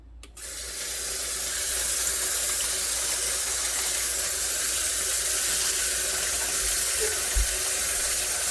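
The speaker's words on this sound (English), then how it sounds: "I'm going to put the cold water on and rinse it." Cold tap water runs onto bulgur wheat being rinsed in a strainer, a steady, loud hiss and spatter that starts abruptly and continues evenly for about eight seconds.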